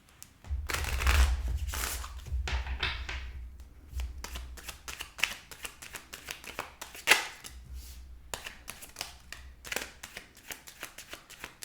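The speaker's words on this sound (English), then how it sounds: "All right, last shuffle." Tarot deck shuffled by hand in a reading, a run of rapid papery riffles and snaps with sharp taps between, close and fairly quiet, no talking.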